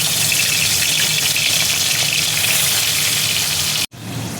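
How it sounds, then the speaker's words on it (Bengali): Fish frying in hot mustard oil in a kadai: a steady, loud, dense sizzle that fills the clip and then cuts out abruptly near the end. "এবার আমি মাছগুলো তেলের মধ্যে এক এক করে ছেড়ে দেবো।"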